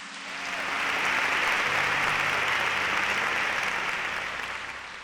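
Sustained applause from a congregation at a church service, swelling in over the first second, holding steady and full, then thinning slightly toward the end, with no voices over it.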